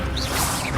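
A Levioso levitation spell fires in Hogwarts Legacy with a swooshing, creaking magical effect over dense game sound, steady and fairly loud for under a second.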